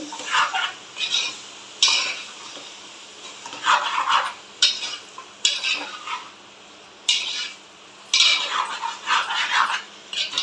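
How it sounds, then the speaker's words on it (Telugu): Chicken gravy curry being stirred in a pan, with repeated scraping and clattering strokes of a spoon against the metal in uneven bursts, close and fairly loud, with no talking. "చికెన్ వేసిన తర్వాత ఒకసారి తిప్పుకుందాం అండి"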